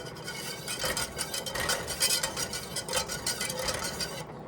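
A wire whisk scrapes and clinks rhythmically through a thickening sharp cheddar and mozzarella sauce for macaroni and cheese in a pot, brisk close strokes with no talking.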